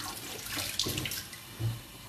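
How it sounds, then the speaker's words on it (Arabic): Lettuce being rinsed under a running kitchen tap for a salad, a quiet, steady stream of water with soft splashes and a couple of brief thuds, no talking. "جست نغسل الخس"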